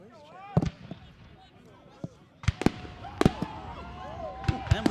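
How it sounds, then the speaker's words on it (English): Fireworks go off at a stadium during a Titans vs Broncos semi-final match, scattered sharp bangs and pops at irregular intervals, some loud and close, heard under commentators talking over crowd noise. "And we have fireworks as well."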